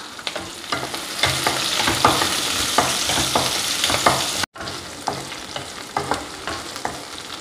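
Onions sauté in a pan for a quick hotel-style tiffin sambar, a close, steady sizzle with repeated scraping stirs at an even rhythm and a short break partway through; no one speaks.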